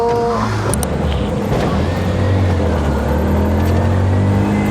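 A manual-transmission car accelerates on a road near Antipolo, its engine giving a steady, loud rumble with a rising tone that holds throughout, close to the listener.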